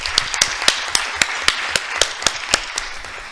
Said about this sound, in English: now I would like to hear a last round of applause for our amazing presenters.